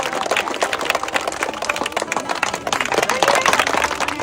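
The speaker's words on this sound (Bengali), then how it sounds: "ওনার জন্য একটা হাততালি" A game show audience claps for a contestant, a dense, steady burst of many hands clapping together throughout, fairly loud and close, with little else audible.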